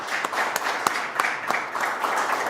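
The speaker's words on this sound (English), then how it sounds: "Let's have a round of applause for that." An audience at a virtual retirement party claps for a few seconds, a small, close group of scattered hand claps with sharp individual slaps rather than a full crowd.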